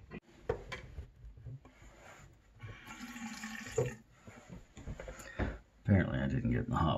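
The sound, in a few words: hot water running from a tap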